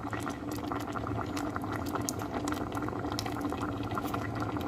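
Apple crumble filling with a cinnamon stick boils in a pot, a soft steady bubbling and popping close by with no talk.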